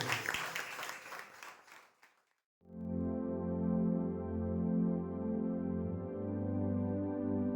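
A standing congregation at a Sunday praise and worship church service clapping loudly and densely for a couple of seconds, then stopping as full band music with steady low rhythm takes over.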